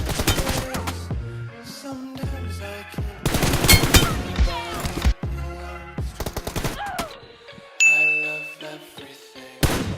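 Rapid bursts of automatic gunfire from the mobile battle royale game BGMI / PUBG Mobile, loud and close, broken by short pauses, metallic dings and clanging in-game effects, with no talking.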